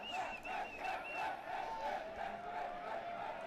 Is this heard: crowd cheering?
yes